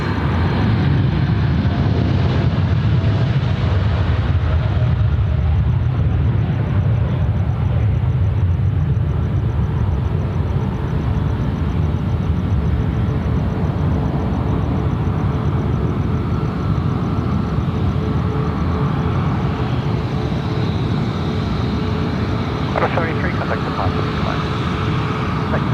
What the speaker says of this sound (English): This is the long and lean 787 departure